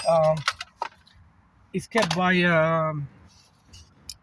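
Small hex screws from a Mercedes W140 dashboard clink and jingle in short bursts near at hand, with brief pauses between them and a voice talking over part of the handling.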